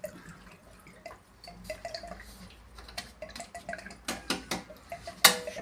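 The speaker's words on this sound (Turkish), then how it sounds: "genleşme tankının içinde birikmiş olan suyu da boşaltmış oluyoruz" Water drips and trickles from a combi boiler's expansion tank during servicing, with scattered metallic clinks and a few louder splashes, close and fairly quiet.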